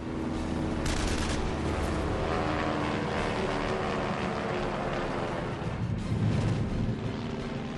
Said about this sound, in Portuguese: Brooks gira para a direita e atinge o Fokker com suas metralhadoras.